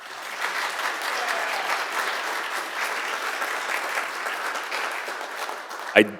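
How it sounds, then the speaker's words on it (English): At a city commission meeting, the audience gives a round of applause, steady clapping from a modest crowd lasting several seconds, with a sharp knock near the end. "Let's give him a round of applause."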